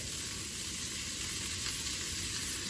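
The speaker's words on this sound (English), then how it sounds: "potatoes are going back into the skillet" Potatoes sizzling loudly in a skillet with oil, for a one-pan garlic butter ground beef and potatoes dish; a dense, even, continuous frying hiss, close and steady throughout, with no talk.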